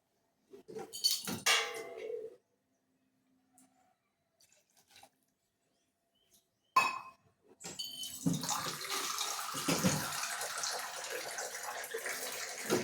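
Water splashes and trickles steadily into a pressure cooker for several seconds, close and fairly loud, while making chicken soup, after a brief earlier burst of handling noise and a quiet pause.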